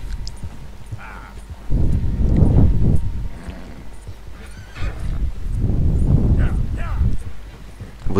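Horse hooves clip-clop in a Red Dead Redemption 2 scene, with a horse neighing and snorting between bursts of galloping, the hoofbeats loud and close.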